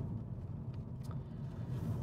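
Inside a moving car, a steady low road rumble and engine drone fill the cabin evenly, with faint small knocks and no voices.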